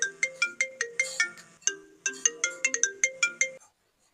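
A mobile phone ringtone for an incoming call plays a bright, repeating electronic melody in quick, evenly spaced notes. It runs clearly for about three and a half seconds, then stops into silence.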